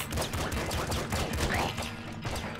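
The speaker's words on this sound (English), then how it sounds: "There's enough explosions right now to kill a horse" Explosions and rapid gunfire in the top-down shooter game Nuclear Throne, a dense rattling burst of repeated blasts and shots at a steady quick rhythm, loud and continuous.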